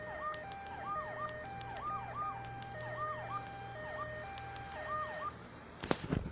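Emergency vehicle siren in the video game GTA 3: a repeating two-tone wail cycling steadily for about five seconds, moderately loud, then stopping and followed by a sharp, noisy burst at the end.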